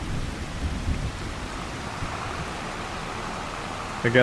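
Steady rain with a low thunder rumble in Farming Simulator 25, a broad continuous wash of noise at even loudness, with a brief louder swell near the end.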